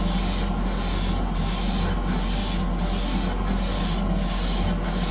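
An airbrush sprays primer onto a clay vase, a steady close hiss broken by short regular gaps roughly every 0.7 seconds as the stream pauses and resumes.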